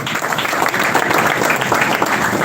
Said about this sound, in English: Applause to Sky Team